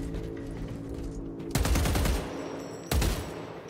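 Bolt carbine fire in the Space Marine 2 video game: two loud, sharp bursts of close rapid shots, the second shorter, each standing out against a steady droning background.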